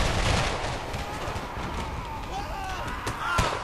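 Massed musket volleys and cannon fire crackle through a Civil War battle game, dense overlapping gunshots and distant booms rolling on without pause.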